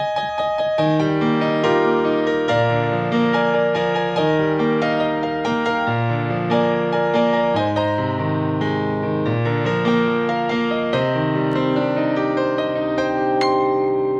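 Solo piano plays the flowing chorus melody of a song with sustained chords underneath, steady and full throughout with no voices.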